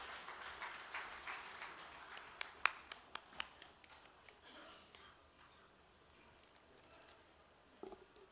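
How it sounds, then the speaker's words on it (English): Scattered applause from a conference audience greets guest Gopal Prasad Sigdel, quiet and fairly distant, with a few sharper individual claps standing out before fading into sparse patter. "Please give him a round of applause,"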